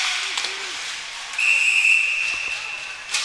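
A referee's whistle blows at a U16 AAA ice hockey game: one shrill, sustained blast over arena hiss, with faint crowd and rink noise around it.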